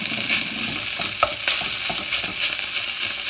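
Rice being stir-fried with garlic in a hot pan: a continuous crackling sizzle with scraping and clinking stirs from a spatula, recorded close and without any talking.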